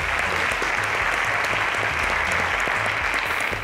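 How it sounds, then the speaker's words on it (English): Studio audience applause for a contestant on a televised quiz show, steady and loud throughout with dense clapping over a low musical or crowd bed. "Ladies and gentlemen, round of applause to Festus"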